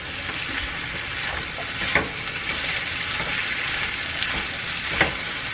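Ground beef and potatoes sizzle in a hot pan as they are stirred, giving a continuous frying hiss with occasional scraping knocks of a spoon against the pan.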